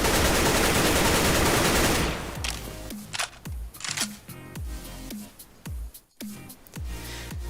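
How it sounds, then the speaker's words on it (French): Gunfire in CS:GO, shots going through a wooden pallet on the Mirage map: a dense burst of noise gives way to a string of sharp, separate shots with short, uneven gaps between them. "vous tirez 2-3 balles à travers"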